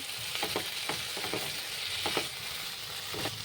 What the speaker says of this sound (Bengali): এবার কিছু ক্যাপসিকাম এর সাথে যোগ করছি, ধনেপাতা কুচি দিয়ে দিচ্ছি, এগুলো একটু ভেজে নিচ্ছি